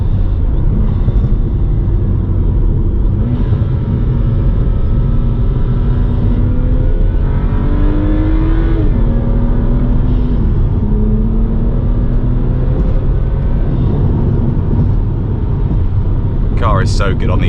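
A BMW E90 335i accelerates through its gears on a country road, a loud, close engine drone that climbs in pitch and drops back several times at paddle-shifted changes while someone talks over it.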